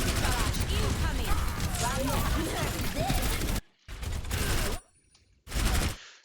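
Overwatch match where a rocket barrage rains down, a loud dense roar of rapid explosions and gunfire that cuts off abruptly, then returns in two short bursts.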